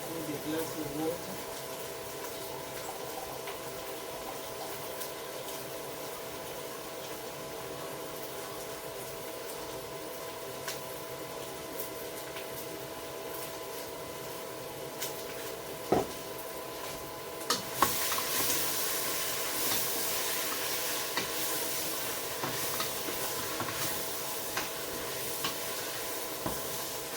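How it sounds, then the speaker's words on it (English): A pot of thick curry thinned with water being stirred at a steady pace, with soft scraping and a low simmering sizzle underneath, and a quiet hiss that grows slightly louder toward the end. "So after stirring it for a while, I add in a bit of curry powder."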